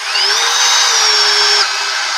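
A cordless power drill runs on battery power, a loud, close, steady motor whine that holds for about a second and a half and then cuts off, leaving a hiss.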